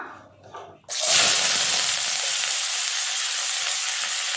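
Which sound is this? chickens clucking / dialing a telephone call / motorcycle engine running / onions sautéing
onions sautéing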